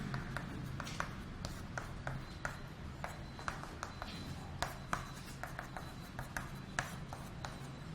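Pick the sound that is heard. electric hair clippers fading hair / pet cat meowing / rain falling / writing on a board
writing on a board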